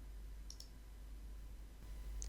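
Short, sharp computer mouse clicks on a file: a quick double click, then a single click a moment later, quiet against a low steady background hum.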